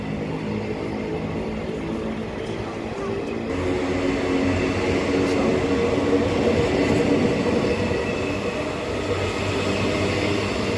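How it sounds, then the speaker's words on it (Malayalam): A very long train rumbles past up close, a loud continuous roar of wheels and cars that swells and holds steady. "ആ ട്രെയിൻ കടന്നുപോയി."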